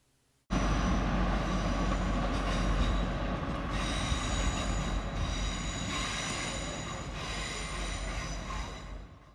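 A Transport for Wales diesel multiple unit rolls past close by, entering abruptly and holding a loud, steady roar of engine and wheels with faint squeals, slowly easing off toward the end; no voices.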